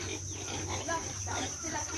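A pig grunting on a farm in Cauayan, Negros Occidental, a few rough snorts in quick succession, close and moderately loud over a constant high insect-like whine and low background hum.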